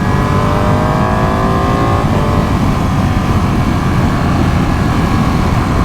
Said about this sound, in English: The engine sort of smooths itself out as soon as you get higher in the rev range.